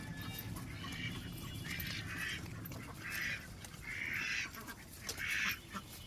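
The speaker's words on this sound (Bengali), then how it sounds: "এই যে একটু হাঁস হাঁস এই দেখে না হাঁস আছে বাবা" A group of ducks quacks outdoors in five or so distinct bursts spread across several seconds, fairly faint and set against a low background murmur.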